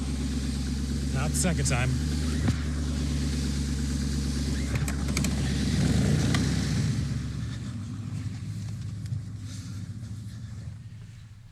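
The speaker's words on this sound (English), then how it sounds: "I still think I'm going to start the generator. What's the chances this will start?" A portable generator runs with a steady mid-pitched engine hum in cold weather while someone talks over it, and the hum eases slightly toward the end.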